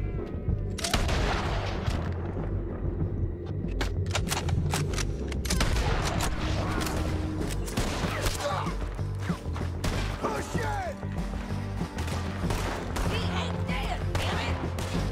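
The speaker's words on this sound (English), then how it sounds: "I don't know where they're shooting from." Sustained gunfire from a shootout in the video game Red Dead Redemption 2, dense overlapping shots and crashes filling the scene continuously, with a voice talking over the chaos.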